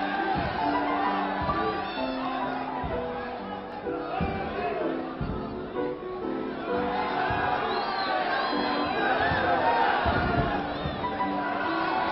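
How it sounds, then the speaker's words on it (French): A packed crowd at a wrestling match in Saint-Denis roars and shouts continuously, a dense wall of yelling and cheering with rising whoops throughout. "au milieu des vociférations de la foule"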